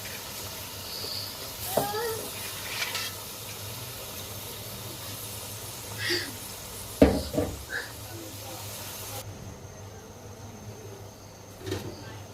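Boiled beef head meat frying in a pan with cinnamon and bay leaf, a steady low sizzle and hiss under occasional sharp clanks of a utensil against the pan, with a brief voice.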